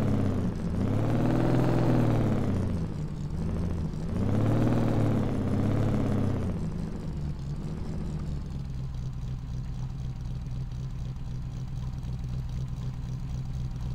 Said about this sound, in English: That's what the sound of a real startup is.